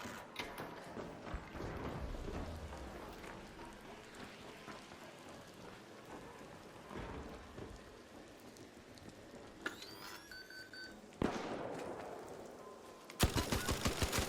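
Quiet, scattered gunfire from an Arc Raiders PvP fight, with rattling mechanical clatter and a hiss like rain. It ends in a sharper, louder burst of rapid shots near the close.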